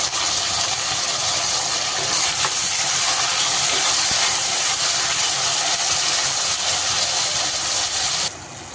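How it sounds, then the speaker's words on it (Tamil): Onions, tomatoes and curry leaves sautéing in a pan for prawn and drumstick kulambu, a loud continuous sizzling hiss that drops off sharply near the end. "இந்த ஸ்டேஜில் தக்காளி சேர்த்து நல்லா வதக்கிக்கும்."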